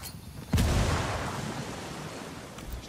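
A single frag grenade blast in a video game hits suddenly after a brief pause, a loud booming burst with a long rumbling, hissing tail that fades over the next two seconds.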